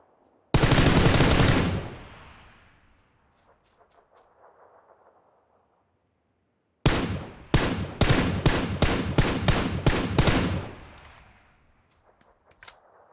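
Gunfire in the video game PUBG: one long loud burst of rapid shots, a quiet gap, then a second close, loud string of about eight separate cracks fired in quick rhythm, with no talk.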